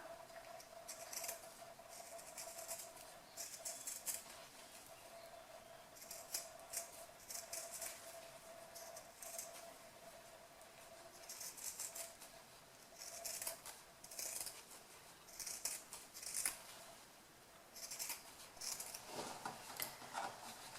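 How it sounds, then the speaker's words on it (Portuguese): Scissors snipping away excess fabric beside a freshly sewn seam on a small cloth pouch, faint repeated crisp cuts in irregular bursts, close and quiet with no voices. "Agora que eu costurei, eu vou cortar esse excesso aqui por fora"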